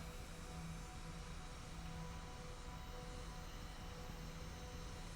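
Rocket engines at max throttle in a spaceflight video game give a constant, broadband roar that holds steady and dense throughout, with no change in pitch or level.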